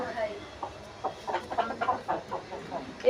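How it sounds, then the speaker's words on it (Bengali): Chickens at a chicken seller's stall cluck and squawk in short, close, irregular bursts, with a vendor's voice calling nearby. "আয় মুরগি মুরগি মুরগি আয় মুরগি"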